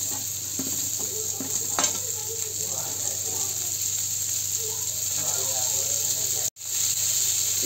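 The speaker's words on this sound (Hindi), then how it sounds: "ये हरे मटर हैं जिसे मैंने छील कर रखा है, इसे हम डाल देंगे एक कप के लगभग ये मटर।" About a cup of shelled green peas tipped into a hot pan: a steady close sizzle with some stirring clatter early on and a brief break in the frying sound near the end.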